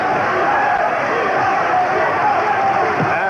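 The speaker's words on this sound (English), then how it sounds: "And the crowd rooting for the champion, Chavez." A boxing arena crowd roars steadily for the champion Julio Cesar Chavez in the closing seconds of a bout, a loud, dense wall of cheering that holds at constant strength.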